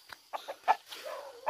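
A mixed-breed rooster gives a handful of short, close clucks in quick succession, with brief pauses between them.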